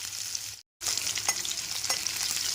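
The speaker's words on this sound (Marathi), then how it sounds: "कांदा पण छान परतून घेऊया लसूण लाल होईल" Onion and garlic sautéing in a pan for a mixed vegetable curry, a steady close sizzle and frying hiss with a brief cutout and a few soft stirring scrapes.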